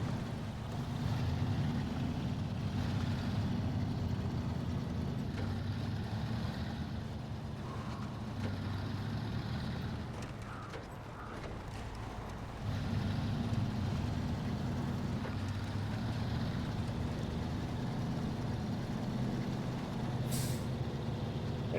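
A modest truck with a 2-wheel drive mode drives along, its engine giving a steady, low, continuous rumble with slight swells and dips, fairly faint and with no talk.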